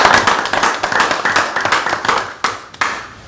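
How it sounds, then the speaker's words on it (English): A round of applause at a county fiscal court meeting: a small group clapping loudly and close, with distinct individual claps in a quick uneven rhythm that thins to a few last sharp claps. "Again, I think we give him another round of applause."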